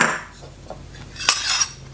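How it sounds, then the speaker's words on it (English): Salad ingredients for a Dutch new herring summer salad, including tomatoes, spring onion and dill pickles, drop into a bowl in a few quick clinks and clatters, close and fairly loud, with no talking. "It's time to build the salad, so I'm gonna throw everything in here."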